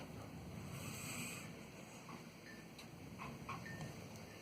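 Wind blows steadily outside a garage, a continuous broadband rush with gusty swells, heard from indoors at moderate level with no talk.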